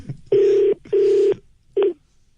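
A telephone rings in three loud electronic bursts, two longer tones followed by a shorter one, close and clear with no voices over them.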